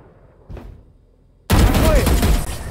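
Gunfire in the video game Free Fire erupts suddenly after a quiet moment, a dense, loud burst of rapid shots that continues to the end.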